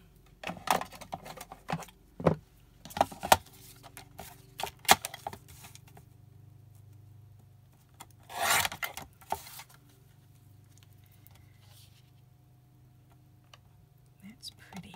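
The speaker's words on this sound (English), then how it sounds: "So now I need to cut that out." Scissors snip a paper image out of a dollar-store greeting card, crisp irregular clicks and cuts close up, with a long snipping run midway and quiet pauses between.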